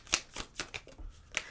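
A deck of tarot cards is shuffled on a table in a steady series of crisp riffles and slaps, about six bursts, close and clear with no talk.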